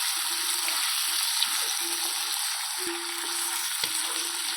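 Vegetables for veg kurma, including potato, sautéing in a pan: a steady, close hiss of frying with occasional soft stirring knocks, no talk.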